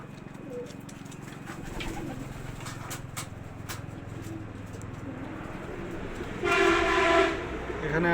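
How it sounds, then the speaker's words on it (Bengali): Pigeons of several breeds coo and flutter in a small home pigeon farm room, with steady low murmuring throughout and a louder, brighter burst of activity near the end. "এখানে আমার অনেক জাতের কবুতর আছে"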